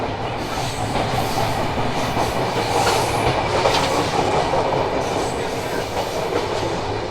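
Inside the Ruposhi Bangla Express as it runs at a good speed, a loud, continuous rumble of wheels on rails with steady clickety-clack and faint squealing, heard close from within the coach without voices.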